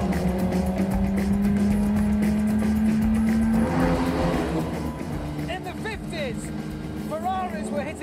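A classic Jaguar's 3.4-litre straight-six engine, rated at 262 brake horsepower, revs with a loud droning note that climbs steadily, then eases as voices come in over the engine sound.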